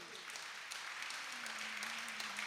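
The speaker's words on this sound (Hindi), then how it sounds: "खुद के सम्मान में भी तालियां बजा लो" An audience at a Jain monk's sermon claps together in a faint, continuous ripple of applause, with a thin sustained tone running underneath.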